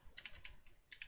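Quick keystrokes on a computer keyboard during Python programming, a short run of soft, close clicks in two small clusters with a brief pause between.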